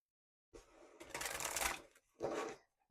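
Affirmation cards riffled during a pick-a-card reading: a short burst of papery shuffling, then a brief second riffle after a pause, close and fairly quiet.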